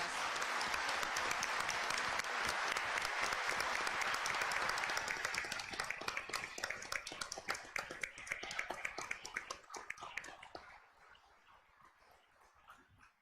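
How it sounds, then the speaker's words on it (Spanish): Audience applause at a political event in Argentina, a dense sustained burst of clapping that thins into scattered claps and fades out toward the end. "Así que un fuerte aplauso para todas ellas."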